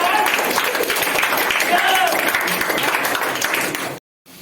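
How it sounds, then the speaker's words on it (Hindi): An audience at a motivational talk claps loudly and continuously for about four seconds, mixed with crowd noise and possible voices, then cuts off abruptly. "इनके लिए जोरदार तालियां।"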